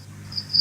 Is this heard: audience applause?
no